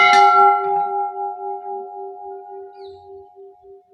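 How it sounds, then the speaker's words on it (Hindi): A single strike on a large 125 kg temple bell at an ancient Mathura temple, loud and close, its steady tones ringing on and slowly fading through four seconds of long reverberation. "125 किलो का घंटा है ये। आवाज इसकी बहुत देर तक गूंजती है।"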